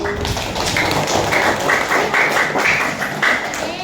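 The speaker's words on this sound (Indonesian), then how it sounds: "Ya, tepuk tangan dulu." Schoolchildren in an elementary Islamic school classroom clapping together, loud close rhythmic claps in a rapid, patterned sequence that stays steady throughout, without talk over it.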